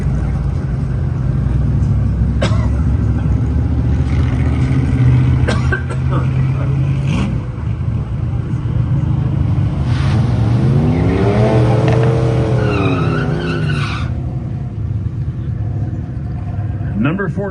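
A 2022 Hyundai runs an airport drag race, its engine a steady loud rumble throughout with a rising rev sweep near the middle, while an announcer talks over it.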